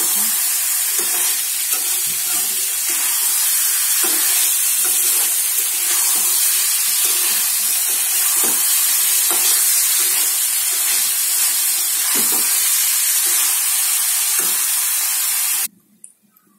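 Fish and banana cooking in a pan give a loud, continuous close sizzle and hiss with occasional stirring clatters, cutting off abruptly near the end.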